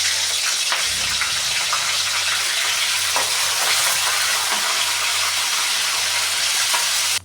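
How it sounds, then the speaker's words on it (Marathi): Green chillies dropped into hot oil for chilli bhaji, a loud, dense crackling sizzle that carries on throughout with a few stirring scrapes, close up and without any voices. "आता तेल गरम झालेले, मिरची टाकून घेऊ आपण"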